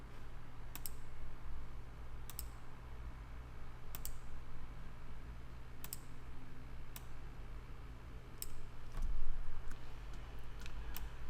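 Computer mouse clicks come during Photoshop editing: about a dozen sharp, close single clicks spaced irregularly over a low steady hum, with no talk.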